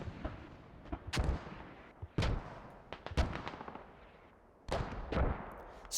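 Gunfire in the tactical shooter game Squad, several sharp bursts of shots at irregular intervals, some close and loud, others more distant, over a steady low battlefield rumble.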